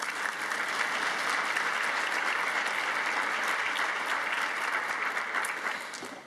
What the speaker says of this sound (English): A round of applause for Kat, please.